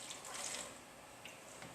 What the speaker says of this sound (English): You're going to need 4 cups of water, and you just pour,